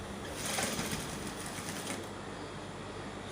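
A sewing machine stitches a seam on a lace bustier dress with a sweetheart neckline, a fast, even mechanical whirr running steadily and fairly quietly throughout.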